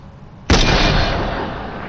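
A sniper rifle in a video game fires a single sharp, loud shot, followed by a long rolling boom that slowly fades.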